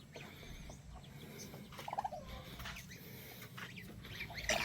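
Faint, distant gobbling of a turkey, a short warbling burst midway and another near the end over quiet farmyard noise.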